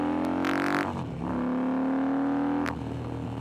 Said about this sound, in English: That was full throttle, the beans, everything she got.